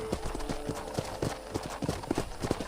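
Horse hooves clip-clop in an uneven rhythm on hard ground by a corral, fairly close, with faint background noise.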